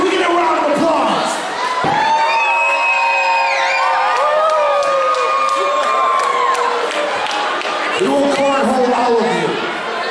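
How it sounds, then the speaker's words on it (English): Crowd at a Halloween costume ball in Buffalo, New York, cheers, whoops and shouts loudly with applause underneath, a dense, close roar sustained throughout with high excited voices rising over it. "can we get a round of applause?"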